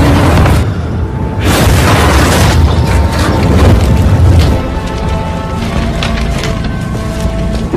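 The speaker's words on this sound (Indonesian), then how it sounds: "Tiba-tiba saja semua tempat meledak." A massive explosion from a mafia action film erupts as the whole place blows up: a loud, sustained roar of deep booms and crackling debris that swells, then rumbles on without letting up.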